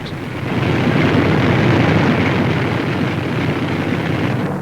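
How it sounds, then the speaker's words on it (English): A formation of B-24 Liberator bombers flying over the Mediterranean, a loud continuous droning roar of many piston engines, with no voices. "More than 175 giant Liberators streaking across the Mediterranean"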